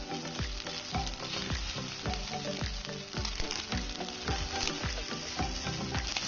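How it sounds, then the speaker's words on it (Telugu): Schezwan fried rice with spring onions and fried cashews being stirred in a hot pan, steady sizzling with repeated scraping strokes of the spatula in a regular rhythm, close and continuous. "కొంచెం స్ప్రింగ్ ఆనియన్స్, ఇందాక మనం వేయించి పెట్టుకున్న జీడిపప్పు వేసేసి కొంచెం కలిసే విధంగా, రైస్ అంతా కలిసే విధంగా కలుపుకుందాం"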